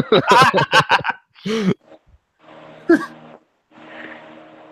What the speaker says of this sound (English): I have a giant ass industrial fan blowing